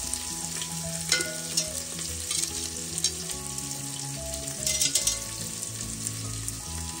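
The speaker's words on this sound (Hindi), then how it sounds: "2 प्याज इसमें डाल रहे हैं कटे हुए" Chopped onions fry in a pan for chana dal, giving a steady close sizzle with occasional stirring scrapes and crackles throughout, with no voices.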